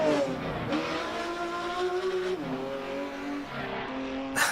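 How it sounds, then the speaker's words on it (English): Race car engine in the sim racing game Assetto Corsa Competizione, a loud sustained roar that rises and falls through gear changes, with a brief tire squeal near the end and no voices. "This engine sound is incredible."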